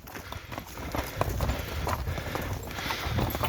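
Draft horse hooves clip-clop steadily at a walking pace in a forest, fairly close, over a rustling outdoor background with no talking.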